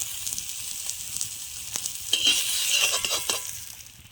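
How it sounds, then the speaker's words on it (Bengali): Shapla (water lily) leaf paturi parcels crackle and sizzle in a pan while being stirred and flipped, a close frying hiss with light scraping and no voices. "কীভাবে এগুলো আমি ভেজে নিচ্ছি, আর এই যে উল্টেও দিয়ে দিচ্ছি।"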